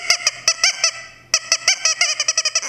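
A musical instrument used for a children's music story imitates a honking duck or squeaking mouse, giving a loud run of short nasal honks, first spaced and then quicker in a rapid burst, with no talking.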